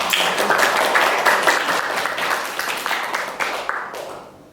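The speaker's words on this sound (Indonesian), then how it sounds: "Terima kasih, tepuk tangan lagi." Students applaud in an Indonesian classroom during a geometry lesson, with brisk, dense clapping filling the room before tapering off and fading out at the end.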